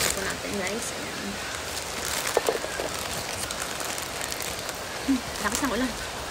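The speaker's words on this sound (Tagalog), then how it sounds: "Lakas ng ulan." A heavy afternoon downpour hisses evenly across surfaces, a steady wash of rain sound with people talking over it.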